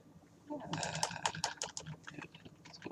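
A computer keyboard being typed on in a quick burst of close, crisp key clicks that starts after a short pause and then thins into a few scattered taps, with a voice talking over it.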